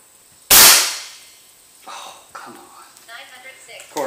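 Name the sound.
FX Dreamline air rifle shooting slugs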